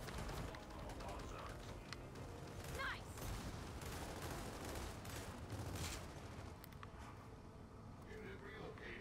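Gunfire in the video game Gears of War 4: dense, overlapping bursts of shots ring out steadily across a loud, busy battle mix, with no clear pauses.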